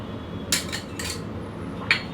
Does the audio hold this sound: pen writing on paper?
no